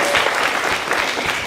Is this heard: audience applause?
yes